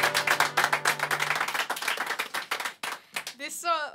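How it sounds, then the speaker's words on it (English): Dense applause and clapping from an audience fills the space, thinning out near the end as a voice begins speaking. "Ladies and gentlemen, another round of applause for Tina Bartle"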